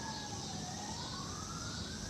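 A steady fire truck siren wails, rising gradually in pitch, over a dense low rumble of engine and traffic noise.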